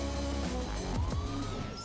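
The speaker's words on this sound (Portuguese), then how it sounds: "Vamos ligar a sirene, né, gente?" A police siren wails from a modded Lamborghini Aventador police car in GTA V, its rising and falling electronic tone sweeping over a low engine hum, loud and close.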